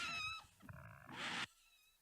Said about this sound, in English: The pages will vibrate and squeak and make that sound.